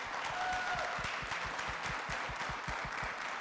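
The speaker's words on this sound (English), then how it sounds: "So please give him another round of applause." Audience at a city council meeting clapping in a sustained round of applause, moderately distant and steady throughout, with a faint voice underneath.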